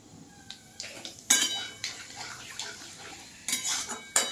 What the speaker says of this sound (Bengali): ফোড়নটাকে এইভাবে আমি ভাজবো